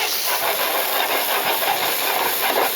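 Pork sausages, or snags, sizzling on a hot grill, a steady dense hiss that stays loud and close with little variation, with no voices.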